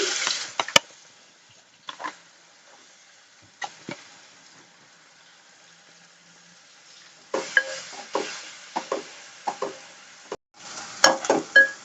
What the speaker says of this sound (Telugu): ఆ చేపలు వేపిన నూనెలోనే మనం ఈ విధంగా వేపుకుంటే మనకు ఆయిల్ కూడా కలిసి వస్తుంది